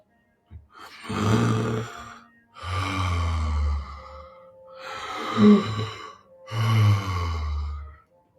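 Four deep, slow breaths during a breathing exercise, each a long airy inhale or exhale lasting about a second and a half, close and fairly loud, separated by short pauses, with no talking.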